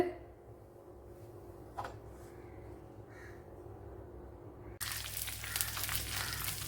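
Mustard seeds and dried chillies hit hot coconut oil, and a sudden bright sizzle bursts in near the end after a quiet stretch of low kitchen hum.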